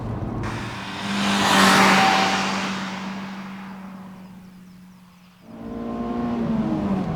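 A Honda S2000 sports car's F20C 2-litre engine revs up to a high, strained whine, eases off into a fading drone, then revs strongly again, loud and close.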